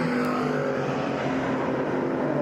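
Prototype race cars lapping Monza on the penultimate lap of a race, a loud, sustained engine drone that holds steady throughout as cars run close, with no voices.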